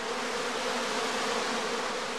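A honeybee swarm clusters in shaded hanging bags at a heather skep apiary, giving off a steady, dense buzzing hum that holds level throughout without pause.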